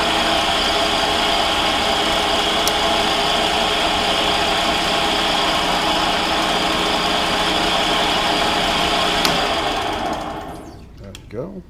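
A metal lathe running in back gear while a spiral point tap cuts threads gives a steady, loud mechanical hum with a faint whine, which winds down and stops near the end.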